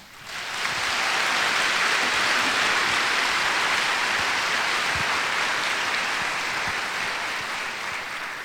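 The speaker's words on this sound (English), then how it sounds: "Would everyone please join in giving them a round of applause?" A fashion show audience applauds faculty with steady, dense clapping that swells quickly, holds for several seconds, and then eases slightly, with no talking over it.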